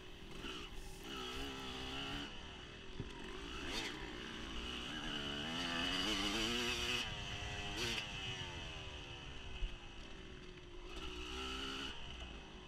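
Off-road motorcycles race at a Fox Valley GP round, a buzzing two-stroke-like engine wailing up and down through gears, close and continuous with another bike audible nearby.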